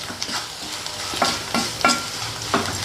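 Onions sauté in a pan, a soft continuous sizzle punctuated by several sharp scraping stirs of a spoon against the pan, close by and without talk.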